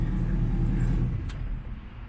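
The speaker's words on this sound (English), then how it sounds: "Can you turn off the engine because it's kind of loud?" A MegaRexx Ford F250 truck's engine idles with a loud, steady low rumble nearby, easing somewhat in level about halfway through.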